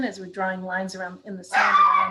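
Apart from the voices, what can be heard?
dogs barking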